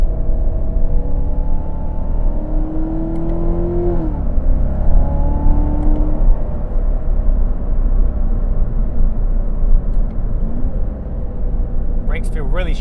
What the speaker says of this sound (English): The transmission does a really great job of downshifting as you're going through these corners.